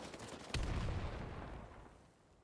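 A single heavy grenade blast in the World War II shooter Battalion 1944 booms close by with a deep low thump, then rumbles and slowly fades, with faint gunfire before it.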